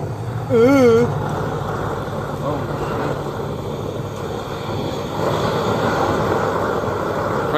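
A homemade flower pot forge fires up on a new air system with a steady, broad roaring rush that swells louder partway through, as someone talks nearby.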